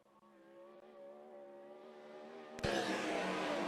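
A 410 sprint car on a qualifying lap at a racetrack, a steady engine drone rising in pitch, then a sudden loud roaring burst as it passes close.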